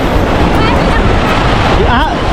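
Sea waves washing onto a beach at Daet, Camarines Norte, a continuous rushing surf with wind buffeting the microphone, loud and close, with people talking over it.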